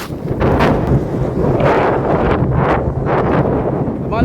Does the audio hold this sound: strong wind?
yes